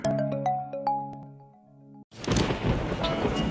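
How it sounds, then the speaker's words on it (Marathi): A chiming melodic jingle fades out, then a dense, steady hiss of heavy rain in Aurangabad begins abruptly with a low rumble beneath it. "मस्त पाऊस पडतोय"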